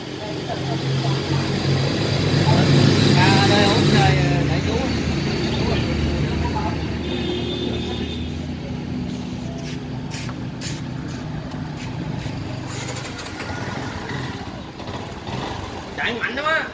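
A Honda Winner motorcycle engine runs with a steady, loud rumbling drone nearby, while people talk over it throughout.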